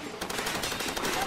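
Rapid gunfire rattles continuously through a jeep during a Far Cry 2 firefight, a dense and loud burst of shots with no pauses.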